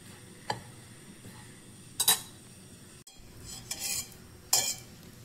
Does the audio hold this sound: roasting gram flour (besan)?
yes